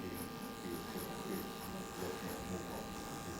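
Electric hair clippers fade and blend a mohawk haircut, buzzing steadily and continuously at close range throughout, with a faint voice in the background.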